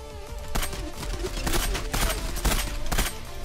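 Machine-gun spray in the shooter game Zula: loud rapid bursts of automatic fire, several distinct heavy cracks spaced about half a second apart over a dense continuous rattle, up close.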